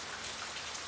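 Steady rain pours in an animated cartoon forest scene, a dense, even hiss of falling drops with no voices.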